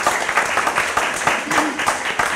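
Brief applause from an audience for children at a county fiscal court meeting in Marshall County, Kentucky, a burst of clapping lasting a couple of seconds with a voice faintly mixed in.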